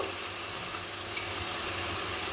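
Fried potatoes go into hot masala in a pan while making chicken tikka biryani, giving a steady, even sizzle close by with no talking.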